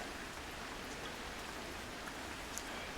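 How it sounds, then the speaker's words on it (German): Heavy rain pours down steadily on a mountain road in southern Italy, a dense, even hiss of drops with no pauses and no voices. "Ja, jetzt regnet es richtig heftig."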